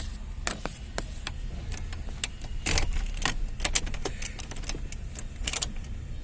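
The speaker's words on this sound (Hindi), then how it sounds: "बाकी है वैगनार जिसमें गाड़ी की चाबी लगी है, इसी की है, मारुति की जो वैगनार है इसी की है।" A set of car keys for a Maruti Suzuki WagonR jangles in a series of sharp metallic clinks and rattles, close to the microphone, with a faint steady background hum and no talking.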